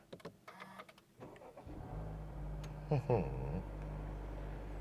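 A Honda Civic Type R FL5, the 330-horsepower front-drive manual, is started by push button: a few clicks and a quick crank, then the engine catches with a brief rev flare and settles into a steady, close idle.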